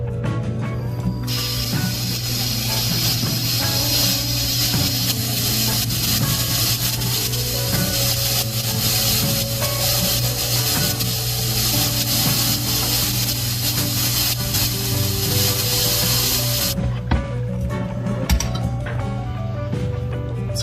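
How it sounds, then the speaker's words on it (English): An FX6 aquarium canister filter is primed, giving off a continuous loud rushing hiss with mechanical clicking and ratcheting throughout. The noise cuts off sharply near the end, leaving a few scattered clicks. "we're going to want to prime the filter"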